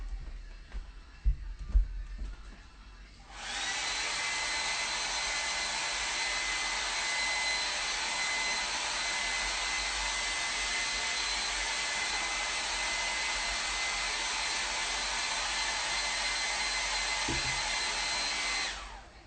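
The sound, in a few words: hair dryer blowing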